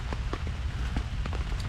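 Rain falls steadily on a tarp shelter at an urban campsite during a heavy downpour with thunderstorms. It makes a continuous near hiss broken by sharper individual drop hits, with no one talking.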